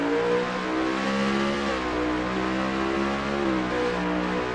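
A race car engine in a racing video game on the Indianapolis road course, droning loud and close with a steady high-pitched tone that rises and falls slightly through gear changes, with no talk over it.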